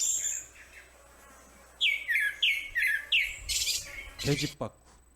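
A wild bird sings around an apartment complex: a quick run of about five sharp, descending chirps, fairly close and clear over quiet background hiss, followed by a few louder rustling bursts.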